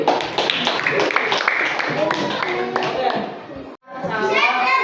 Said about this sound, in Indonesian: Tepuk tangan buat Evi.